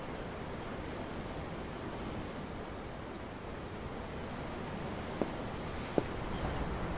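Ocean waves from a ship's deck in the video game Tales of Arise, a steady broadband wash of surf and wind that holds level throughout, with two brief faint clicks near the end and no talk.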